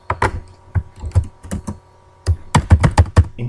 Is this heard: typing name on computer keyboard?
yes